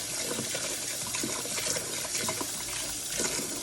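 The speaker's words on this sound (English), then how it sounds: "Then we're gonna simply rinse them all over again." Tap water runs steadily while white shoelaces are rinsed under it, a continuous loud gushing splash that fills the whole stretch without any voice.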